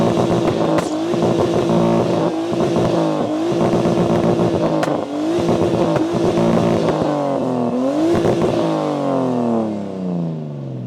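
Engine sound checks of a Nissan R34 Skyline and a BMW 530D diesel: loud, close revving with repeated rises and drops in pitch, a steady idle-like drone between revs, fading as the engine settles.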